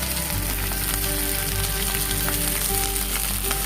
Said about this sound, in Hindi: इस टाइम पे मैंने जो भिंडी लिया था वो मैं थोड़ा सा फ्राई कर लूंगी